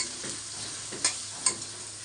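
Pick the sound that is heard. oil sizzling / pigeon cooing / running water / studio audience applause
oil sizzling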